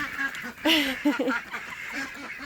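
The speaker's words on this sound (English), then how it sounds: "I love raising the ducks. They're so loud." Ducks raised on a small ranch quack loudly in a burst of honking calls near the middle, with softer calls before and after and brief speech in the background.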